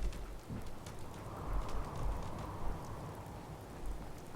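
Steady rainfall in the post-apocalyptic video game Fallout 4, a constant soft wash of drops with faint low rumbles underneath and no voices.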